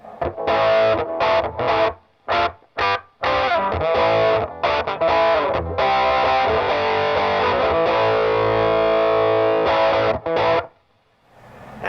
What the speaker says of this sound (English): This is with the treble booster.